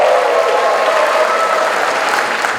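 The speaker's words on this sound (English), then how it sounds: "round of applause if you were born in India" A large crowd at a foundation anniversary gathering applauds, a loud, even, continuous roar of many hands clapping close by.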